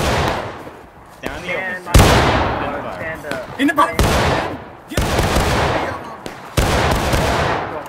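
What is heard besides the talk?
musket volley fire in video game War of Rights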